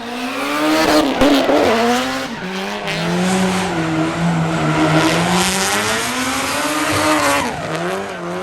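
A drift car at a D1NZ drifting event drifts with a loud, sustained roar from its stock 2-litre four-cylinder engine and screeching tires, revs rising and falling close by, with no talking.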